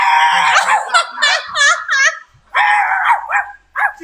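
A Chihuahua barks up close with a run of high, yappy barks and whiny, wavering yips that come in quick bursts separated by brief pauses.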